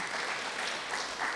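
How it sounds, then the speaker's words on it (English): Steady audience applause at a university president's report, a continuous even wash of many hands clapping at moderate distance, with no voices over it. "A round of applause"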